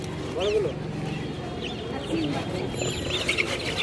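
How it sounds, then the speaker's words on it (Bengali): A goose gives a few short honking calls, spaced apart over steady background noise. "এটা রাজহাঁস।"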